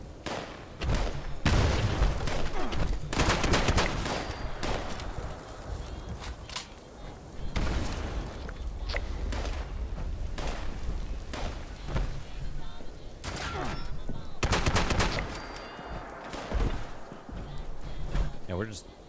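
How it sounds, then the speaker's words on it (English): Shooting rings out in Fallout 76 as repeated loud bursts and booming shots come in clusters, separated by quieter gaps, with players talking in between. "Where is this guy shooting from?"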